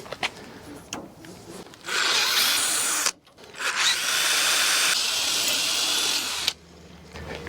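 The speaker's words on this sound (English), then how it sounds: "I'm gonna go ahead and get my holes drilled so that that's finished." A power drill bores holes for a cargo trailer rack, two loud sustained whirring bursts of a few seconds each with a brief pause between them and quieter handling noise around them.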